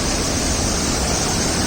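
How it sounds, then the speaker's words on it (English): A hidden waterfall in Arunachal Pradesh roars as a steady, loud, broadband rush of falling water, heard up close and alone without any voices. "I'm getting close to the waterfall."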